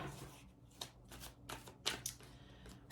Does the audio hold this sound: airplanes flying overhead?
no